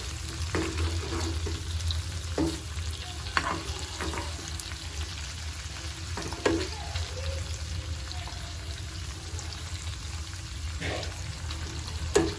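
Beef tripe fries in hot oil with a steady sizzle, broken every few seconds by sharp pops and spatters, close by.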